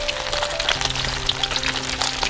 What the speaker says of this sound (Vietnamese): giờ mình sẽ chiên là cái đuôi